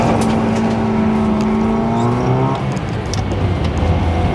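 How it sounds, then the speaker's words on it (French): A Ford Taunus, not a V8, doing a burnout: a loud, steady engine roar with rising revs and a rough tire-spinning hiss that holds throughout, close and continuous with no talk. "ça a beau ne pas être un V8, on peut quand même faire des burns avec."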